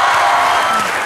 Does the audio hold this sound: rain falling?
no